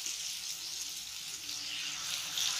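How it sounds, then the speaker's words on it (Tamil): Water is poured into a pan of cooking pasta vegetables, giving a soft, continuous rushing splash that runs steadily throughout. "கொஞ்சமாக தண்ணி ஊற்றி இந்த காய் விழுகிற வரைக்கும் நீ தண்ணி ஊற்றி ஊற்றிக்கலாம்."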